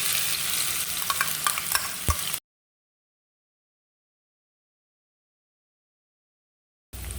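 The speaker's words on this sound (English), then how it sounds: "After the oil is hot, you now bring in the crushed chili and garlic." Crushed chili and garlic hit hot vegetable oil in a pan for Thai pad kra pao, a loud close sizzle with scraping stirs, then the sound cuts out to silence before the frying returns.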